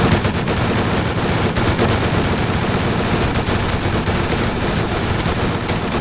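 Sustained gunfire in a zombie survival video game, dense rapid machine-gun shots crackling nonstop and loud over a noisy battle background.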